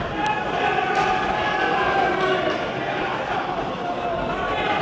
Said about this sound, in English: vociferous York Hall crowd.